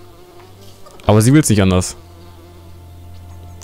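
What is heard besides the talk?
bee buzzing in the video game Lego The Hobbit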